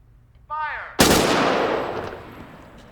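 A single sharp rifle volley from a firing squad at an execution cracks out loud and close, then rolls into a long fading reverberant tail; a brief warbling tone sounds just before it.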